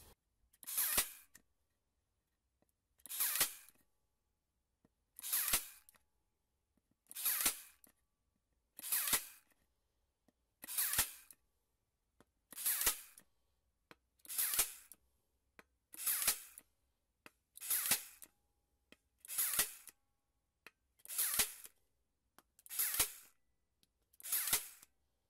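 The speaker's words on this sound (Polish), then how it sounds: "Praktycznie wszystkie zszywki zostały wbite." A Parkside PAT4D6 4V cordless stapler drives staples one after another, about fourteen sharp, evenly spaced mechanical bursts with quiet gaps between them and no talking.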